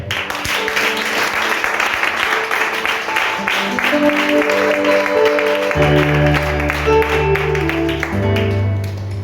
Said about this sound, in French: Acclame le Seigneur. On acclame bien.